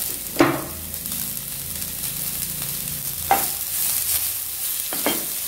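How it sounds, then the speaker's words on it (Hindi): Vegetables with black pepper and green onion being lightly sautéed for sweet corn soup, a steady sizzle broken by a few sharp spoon scrapes against the pan. "बस हल्का सा सौते करेंगे।"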